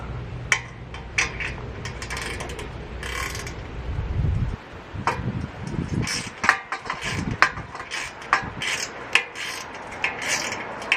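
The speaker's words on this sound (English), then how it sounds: "I'm going to loosen this clamp up a little bit" A ratchet works loose a clamp on a Suzuki Marauder motorcycle during clutch-replacement disassembly, giving a run of sharp metallic clicks and scrapes up close, irregular and fairly quiet, over a low background hum.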